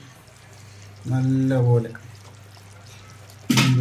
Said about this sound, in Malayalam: നമ്മൾ വെള്ളം ഊറ്റിയേ